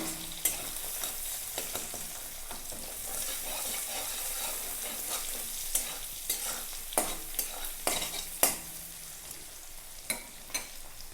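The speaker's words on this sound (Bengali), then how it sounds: "ডিমটা একটু ভাজা ভাজা হোক।" Egg fries with onion in a pan, a steady close sizzle broken by repeated sharp scrapes and clacks of a spatula stirring, growing busier toward the end.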